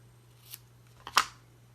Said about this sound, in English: So let's cut that out because it needs to go on the page.